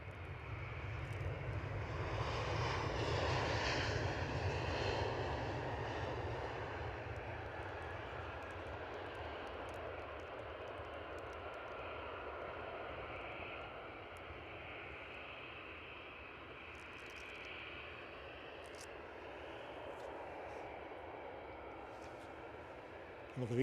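EasyJet airliner at Edinburgh airport, a steady distant jet roar that swells early then holds and slowly fades, alone without talk.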